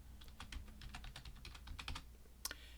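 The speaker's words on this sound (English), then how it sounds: "type the word Explorer" Typing on a computer keyboard: a quick, steady run of light key clicks close by, ending in one sharper, louder keystroke, with a soft low hum underneath and no speech.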